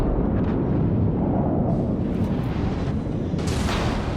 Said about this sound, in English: And look at this, a second volley coming in